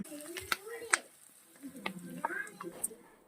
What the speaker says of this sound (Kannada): ಈರುಳ್ಳಿನೂ ಅಷ್ಟೇ ಚೆನ್ನಾಗಿ ಫ್ರೈ ಮಾಡ್ಕೊಳ್ಳೋಣ ಕಲರ್ ಚೇಂಜ್ ಆಗೋವರೆಗೂ